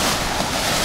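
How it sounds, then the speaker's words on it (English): Ocean waves wash in a steady, loud, broadband roar on a dark-sand beach near Vancouver, with wind buffeting the microphone and no voices. "Ocean."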